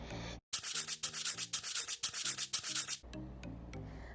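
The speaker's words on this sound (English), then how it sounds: "sanding." Rhythmic sanding of punched-out dollhouse trim, about a dozen quick back-and-forth rasping strokes, close and fairly loud, with no talking.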